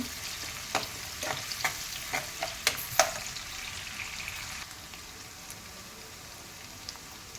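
Green chillies frying in a pan, cooked for a paneer dish: a soft, steady sizzle with sharp utensil taps and scrapes in the first seconds, then quieter, even crackling.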